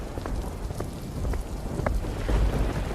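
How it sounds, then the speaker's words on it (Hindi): Heavy rain pours steadily in a dark rural night setting, a dense continuous hiss with scattered drops striking close by, building slightly louder toward the end, with no voices. "अब बारिश तेज होती जा रही थी।"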